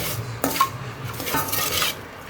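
Cooked rice is mixed with roasted curry leaf powder in a pot, heard as close scraping and stirring with a few sharp clinks of a spoon against the vessel.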